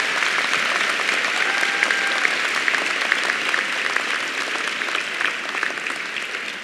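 A large audience applauds at a college commencement for the graduates' parents and loved ones, sustained dense clapping filling the hall at a steady level before easing slightly toward the end.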